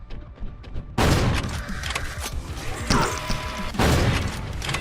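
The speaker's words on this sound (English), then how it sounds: "Berserker's Domain SSG, aka the Super Shotgun" A Super Shotgun in the video game Berserker's Domain fires three heavy, booming blasts in quick succession, each loud, close and crashing with a ringing tail.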